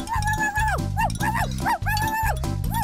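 A cartoon dog barks in an animated children's episode, giving a string of high, stylized yips and bow-wows set against loud, busy music.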